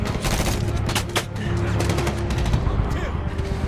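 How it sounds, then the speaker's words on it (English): Machine gun fire in a Medal of Honor battle scene, loud rapid bursts of shots crackling over dense combat noise, with voices shouting amid the gunfire. "There's an MG in there!"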